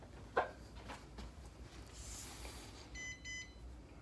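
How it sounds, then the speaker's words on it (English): A quick pair of high electronic beeps from an Altair Aerial Dagger drone pairing with its remote controller near the end, faint against a quiet hiss, with a soft click earlier. "There's your double beep, which means you're now paired with the controller."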